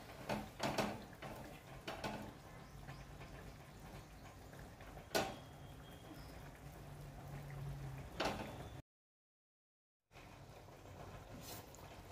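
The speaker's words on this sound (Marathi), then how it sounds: "हे बघा मस्त उकळी आली आहे आणि कलर बी खूप छान आलाय भाजीला" A pav bhaji vegetable mixture bubbles faintly in a pan, a soft low simmer with occasional sharp clicks and taps, and a short silent gap near the end.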